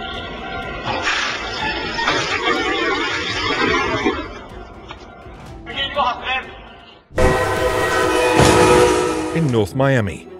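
A loud Brightline train roars past with rumbling wheels, then a long, blaring horn blast sounds close by over the rushing noise.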